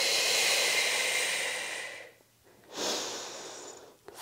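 Forceful breaths during an arm workout: a long hissing inhale up close, a short pause, then another strong rush of air and a brief final puff.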